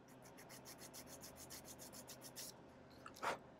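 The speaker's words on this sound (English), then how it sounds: "just a little filing on the sides here" Small file rasping back and forth along the sides of a scratchbuilt model ore bin door, a quick run of close, even strokes followed by a short brief scrape near the end.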